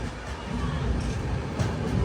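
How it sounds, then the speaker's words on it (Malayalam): An express train pulls into Gooty Junction station with a loud, steady low rumble and rolling clatter, with faint platform babble mixed in. "സമയം 4:30 ഗൂത്തി ജംഗ്ഷൻ റെയിൽവേ സ്റ്റേഷനിലേക്ക് ഇതാ നമ്മുടെ ട്രെയിൻ എത്തിക്കൊണ്ടിരിക്കുകയാണ്."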